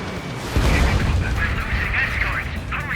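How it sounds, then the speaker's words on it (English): Enemy interceptors fire in the Ace Combat 7 video game, booming gunfire and explosive thuds over a roaring backdrop, with radio voices talking across it. "Enemy interceptors firing."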